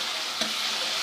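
A spoon stirring masala frying in a pan for potato slice gravy, a steady close hiss of sizzling with a single brief scrape of the spoon.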